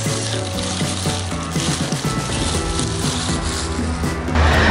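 Ginger stir-fries in a hot pan with steady oil sizzle and scraping stir-fry motions, loud and close, with tonal background hum throughout.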